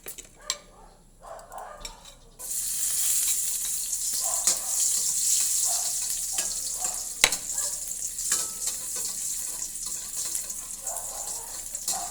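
Garlic and onion go into a hot pan and start sautéing, giving a sudden, steady sizzle that continues with occasional stirring clinks after a few quiet, scattered kitchen noises.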